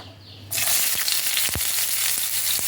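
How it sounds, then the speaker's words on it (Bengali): Chopped onion hits hot mustard oil in a frying pan with a sudden loud hiss that settles into a steady close sizzle, with a couple of light utensil taps, for a Bengali begun bhorta. "তেলটা গরম হয়ে গেছে এবার আমি এর মধ্যে দিয়ে দিচ্ছি পেঁয়াজ কুচি"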